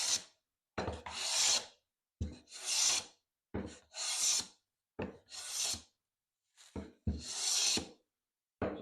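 A hand plane smoothing a wooden board and taking full-width shavings, seven rhythmic rasping strokes close by, each a swelling swish followed by a brief pause, with no voices.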